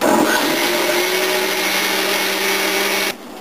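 A blender purees hot mussel bisque with a loud, steady whirring roar that stops abruptly near the end.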